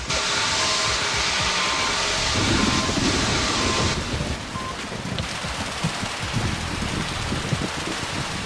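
A storm with a lightning strike in Emergency 4, a constant hiss of heavy rain with a deep rumbling thunder swell in the middle, loud and continuous throughout.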